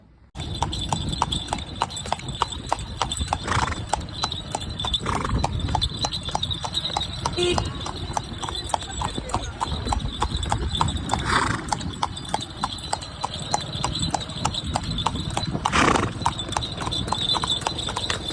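Steady, rhythmic clip-clop of horse hooves on a hard surface, continuous and close, with background noise throughout.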